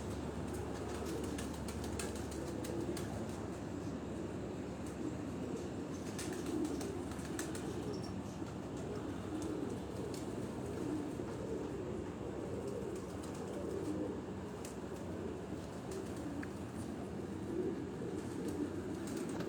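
Pigeons on a rooftop in Rawat, Rawalpindi, in the evening, with soft cooing and occasional wing flaps over a low, steady outdoor rumble, all fairly faint and distant.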